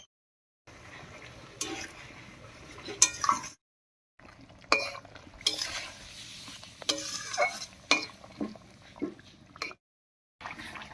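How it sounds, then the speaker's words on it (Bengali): Fried koi fish dropped into a bubbling curry in a pan and stirred, with bursts of sizzling and scraping spoon sounds between brief silent gaps, close and moderately loud, no talking. "এবারে ভেজে রাখা মাছগুলো দেব।"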